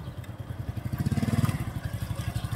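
Motorcycle engine pulsing steadily up close as the clutch is let out and the throttle is opened, the throbbing building to a louder, quicker beat midway before easing slightly, during a riding lesson.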